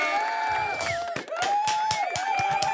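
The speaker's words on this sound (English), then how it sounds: "Let's give a round of applause to Thank AJ God." A group in a small studio cheers and whoops in a celebratory round of applause, with excited voices rising and falling in shouts amid scattered claps that continue throughout.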